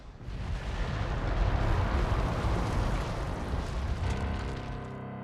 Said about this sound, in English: This is Boslow's simulation of the Tunguska event, created on the supercomputer.